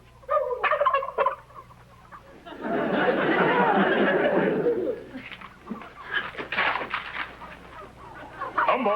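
Turkeys on a farm gobble in a loud, dense burst of rapid throaty calls in the middle, with scattered clucks and chatter around it, while people speak before and after.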